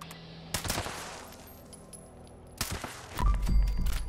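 Automatic weapon fire in the video game Fallout 76, with short loud bursts of rapid shots separated by quieter stretches of game ambience, the last burst ending in heavy low thumping.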